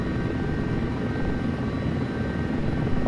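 A wheeled helicopter in a flight simulator video game gives off a steady, loud rotor and engine drone, unbroken throughout with no voices over it.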